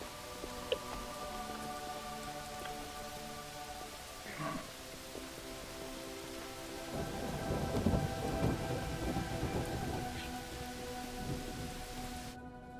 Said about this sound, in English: It's raining and it's not raining blood.